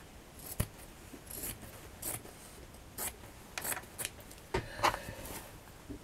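Scissors cut fabric for a patchwork bag: a series of close, short snips and rustling slides, irregularly spaced with quiet gaps between them, no voices.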